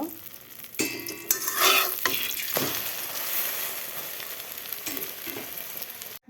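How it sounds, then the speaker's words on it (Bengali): An egg seasoned with cumin, turmeric and salt fries crisply in a pan. Clattering stirs and scrapes burst out early, then a steady close sizzle continues on its own before cutting off abruptly. "ডিমের মধ্যে একটু জিরা দিয়েছি হলুদ দিয়েছি লবণ এখন একটু কড়া করে ভেজে নিব"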